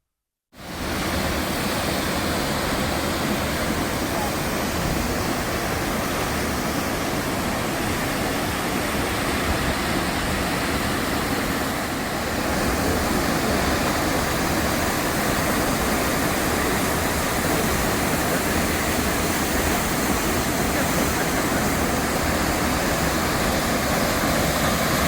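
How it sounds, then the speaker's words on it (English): Horsetail Falls in the Columbia River Gorge, a loud, continuous roar of falling water rushing as steady broadband noise, close and unbroken after a brief silent start. "we stopped at Horsetail Falls this time, and it is just absolutely beautiful"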